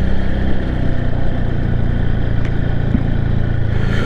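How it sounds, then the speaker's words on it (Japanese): An SL off-road motorcycle engine pulls in second gear up a rocky dirt forest road in Izu, a close, steady low drone with a constant rumble and no sharp revving. "SL のこのエンジンの低速の粘りはね"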